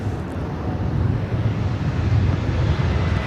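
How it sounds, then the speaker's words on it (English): An SAS Airbus A350 taking off from runway 25 right at LAX, bound for Copenhagen, makes a steady, broad low roar with wind buffeting the microphone throughout. "Southside SAS A350 heading back to Copenhagen, taking off on 25 right."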